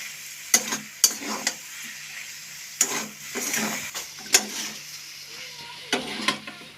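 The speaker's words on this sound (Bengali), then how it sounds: "আলু ডাঁটা খুব ভালোভাবে লবণ হলুদ দিয়ে আবার একবার কষিয়ে নেব।" Potatoes and tender drumstick stalks stir-fried with salt and turmeric in a pan, a soft sizzle beneath sharp, intermittent scrapes and knocks of a spatula against the pan, close by.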